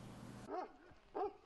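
Trained police dogs give two short, separate barks in a quiet outdoor setting, heard at a moderate distance with silence between them.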